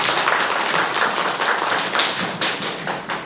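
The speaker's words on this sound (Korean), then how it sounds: "박수를 부탁드립니다." Applause from a small audience at a press briefing for new stage works, a brisk, close patter of hand claps that keeps going without a break and with no voices.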